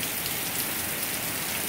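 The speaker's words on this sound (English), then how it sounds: "getting hit with a ton of rain here. Major rainstorm here in Orlando, South Orlando." Heavy rain from a major storm in South Orlando pours down steadily onto roofs and lawn, a dense, loud and unbroken hiss.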